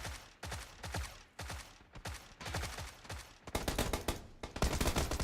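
Bursts of suppressing gunfire from a PUBG-style video game ring out in rapid repeated volleys, loud and close, growing denser toward the end.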